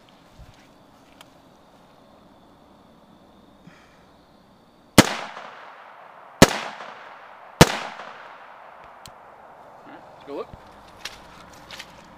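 Three sharp, loud .223 rifle shots from a 16-inch barrel crack out at uneven intervals outdoors, each followed by a short ringing decay, with quiet rustling and faint movement noises around them.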